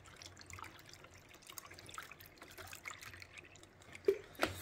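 Water poured into plant containers under indoor grow lights to help capillary wicking: a faint trickle and light splashing, with a couple of brief louder drips or splashes near the end.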